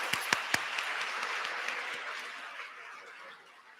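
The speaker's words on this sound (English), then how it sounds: "Can we have another round of applause?" Audience applause at an awards ceremony, a few sharp claps up front then a warm clapping crowd that fades away over a few seconds.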